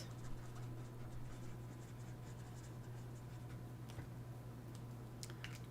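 Ohuhu alcohol markers scribble across paper in a steady, faint, scratchy rasp, close up over a low background hum, with no voices.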